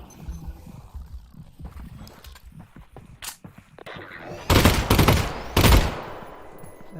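Handgun shots in Half-Life: Alyx ring out as a few scattered pops and then two loud, dense bursts close by, over a busy game soundscape with no talking.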